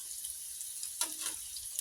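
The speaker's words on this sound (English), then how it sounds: "what takes the most time is the actual frying of the chicken" A soft, steady sizzle of chicken frying in oil for sesame chicken, with a faint clink or stir partway through, quiet and close.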